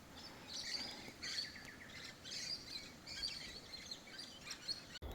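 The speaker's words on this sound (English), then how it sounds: "Listen to the birds." Several small birds chirp and tweet in quick bursts against a faint outdoor hush, fairly distant and soft, with no one speaking.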